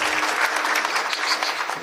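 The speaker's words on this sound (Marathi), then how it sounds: "टाळी जोड्या" An audience at a kirtan during an akhand harinam saptah claps loudly, a crisp and dense burst of many hands that stays even for about two seconds.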